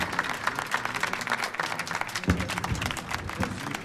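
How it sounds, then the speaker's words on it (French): A crowd applauds a young girl about to sing, with steady, dense clapping filling the room for a few seconds and a couple of louder thumps partway through. "applaudissez-la bien fort"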